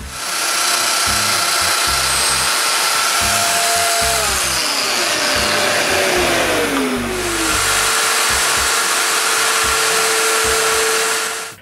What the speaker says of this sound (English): Then I can make all the mortises for the rails.